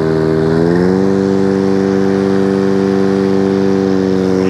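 A Hayter petrol lawnmower engine runs steadily up close, starting with a brief rise in revs and then settling into a loud, even, buzzing drone throughout.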